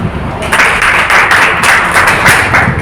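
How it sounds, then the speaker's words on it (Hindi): A seminar audience at a motivational personality development session breaks into loud, close clapping that swells after a brief lead-in and stays dense and steady to the end. "अच्छी बात लगे तो ताली बजाओ।"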